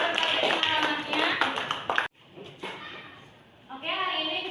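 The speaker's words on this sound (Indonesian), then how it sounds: "Oke, tepuk tangan." Applause from students in a Grade X vocational class, a burst of clapping that cuts off abruptly, then a quieter stretch before clapping and chatter rise again.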